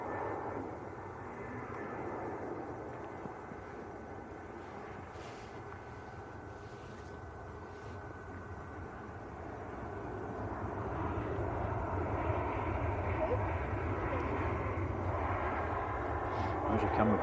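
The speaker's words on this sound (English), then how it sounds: "So this is EasyJet from Geneva, Airbus A320" An EasyJet Airbus A320 from Geneva roars steadily at Manchester Airport, a broad jet rumble that swells louder toward the end, with people talking at times underneath.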